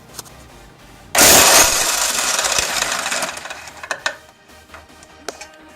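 A power tool takes out a 14 mm motor mount bolt on a 240SX engine. After a quiet start it gives a sudden loud close burst that whirs for about two seconds and then fades into clicks and clatter.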